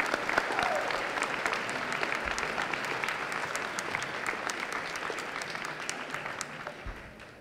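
A school audience applauds Marine veterans at a Marine Corps anniversary ceremony at a middle school, with steady, dense clapping sustained throughout and fading slightly toward the end.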